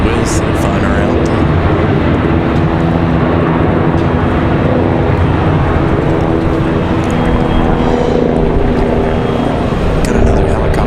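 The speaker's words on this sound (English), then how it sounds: "Got another helicopter flying overhead." A helicopter passes overhead near an airport on a very windy day, its loud engine roar mixed with heavy wind noise and steady throughout.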